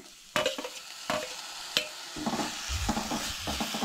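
Grated carrot and cucumber being roasted in a pan, utensil clacks and scraping stirs over a low sizzle, close and fairly loud.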